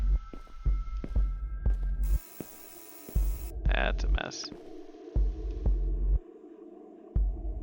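Deep, throbbing heartbeat-like thrum from a video game, pulsing steadily in a low, loud rhythm with a few pauses, heard alongside brief speech and other game effects.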